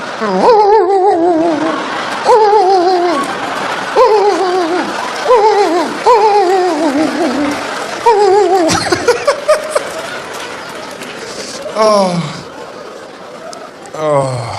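A comedian imitates the barking and whining of skinny, striped, mixed-breed township dogs, his voice producing repeated yelping, complaining barks in bursts with audience laughter and chuckling around them.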